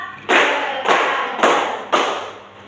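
Four loud, evenly spaced claps of a classroom clapping game, each sharp hit ringing briefly in the room before the next.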